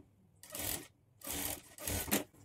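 A sewing machine runs in three short bursts, stitching a large hem on a folded blouse sleeve, with brief pauses between the close whirring runs.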